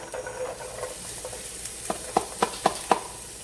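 Half a cup of onions hits a hot pan for a vegan broccoli and mushroom alfredo, giving a soft continuous sizzle followed by a quick run of five or six sharp spatula taps and scrapes, close and without speech.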